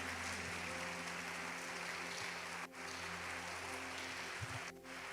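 A church congregation claps together during a worship service, a steady, dense wash of applause that runs unbroken with only a brief dip midway.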